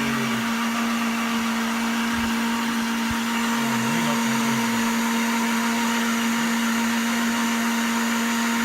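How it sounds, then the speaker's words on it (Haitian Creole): A blender mixes a cream drink mixture with sweetened condensed milk, running as a steady, loud motor whine with a constant hum and faint rattling, no talk over it. "nous mixer, nous blender et crème de leite pendant 3 minutes"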